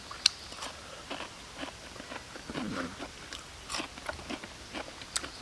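Close, quiet bites and crunchy chewing on roasted honey duck skin, a string of short crisp crunches and soft mouth sounds with no speech.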